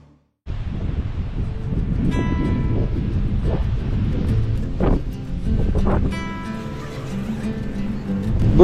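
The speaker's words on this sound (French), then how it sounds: "il y a une brise assez forte" Strong breeze buffets the microphone outdoors, a loud continuous rumbling rush with gusts swelling and easing over several seconds, nothing else standing out.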